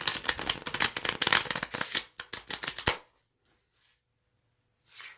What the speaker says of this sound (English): So try to shuffle these.